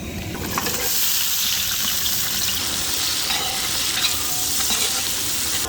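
Sliced large onions fry loudly in a pan with cinnamon, cloves and cardamom, a dense steady close sizzle with stirring scrapes throughout, no talk.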